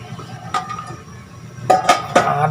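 A metal lid set back onto a cooking pot, heard as a few sharp clanks and clinks close by near the end, after a quieter stretch with a single knock.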